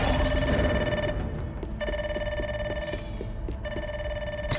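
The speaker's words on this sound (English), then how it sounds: "can we open this door before we answer the phone?" In the Grounded 2 video game, a phone rings in repeated electronic bursts with short gaps between them, loud and clear over a low background hum, with no talk.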